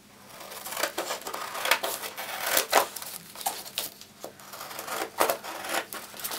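A transfer sheet cut with scissors to fit glass tray molds gives a close run of crisp, snipping strokes in uneven bursts, with no talking.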